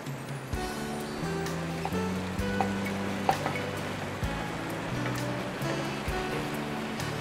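Deep-fried potato cubes tumble into a hot karahi, raising a steady, dense sizzle that runs the whole time beneath background music.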